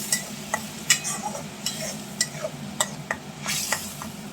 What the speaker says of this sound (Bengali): এবার মশলাটা বেশ ভালো করে কষিয়ে নেব